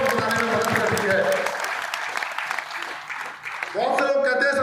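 Loud audience clapping at a business seminar, dense at first then thinning and fading, before a voice resumes speaking over the last of it.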